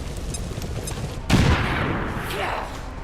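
A grenade explosion in the tactical game XCOM 2, a single sudden loud blast that decays into a rumbling tail, with someone speaking before it.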